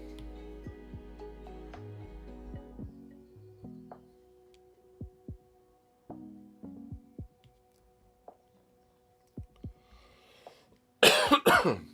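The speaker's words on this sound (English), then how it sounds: "I've got this cough" A burst of harsh, loud coughing near the end, after stretches of quiet taps and faint background hum.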